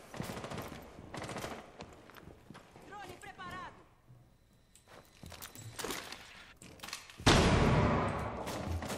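Gunfire in a ranked Rainbow Six Siege match: scattered shots and rapid bursts, ending in a loud, sustained volley, under a player's excited commentary.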